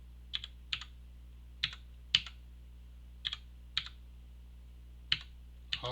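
Keys clack on a computer keyboard in sparse, irregular pairs of taps over about six seconds, close and fairly faint over a low steady hum, with no talking.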